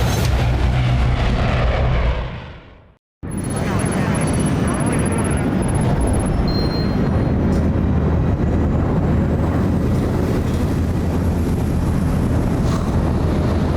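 Steady, loud airplane cabin engine drone in the game Splinter Cell: Blacklist, a broad continuous roar that drops out briefly near three seconds and then resumes unchanged for the rest of the clip.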